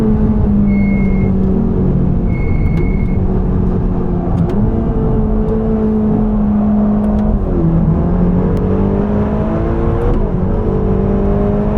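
A Ferrari Roma's engine drones loudly and continuously from close by as the car laps the Nürburgring, its pitch rising and dipping with shifts and throttle changes.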